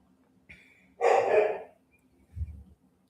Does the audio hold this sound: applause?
no